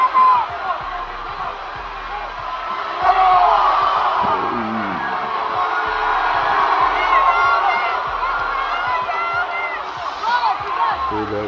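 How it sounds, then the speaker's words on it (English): A virtual arena crowd in a WWE wrestling video game roars and cheers during a WrestleMania 41 main event match, swelling and rising with shouts while someone talks over it. "The crowd is back."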